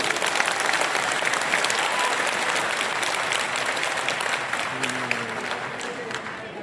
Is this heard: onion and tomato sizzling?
no